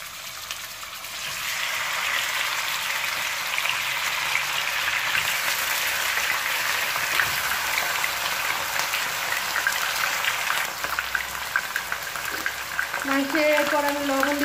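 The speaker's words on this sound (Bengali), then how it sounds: "আমি মুরগির মাংসটা তেলে একটু ভেজে নিব 2-3 মিনিটের মতো" Chicken pieces fry in hot oil in a wok on a stove, giving a continuous loud sizzle and crackle, with faint scraping and a brief tonal clink near the end.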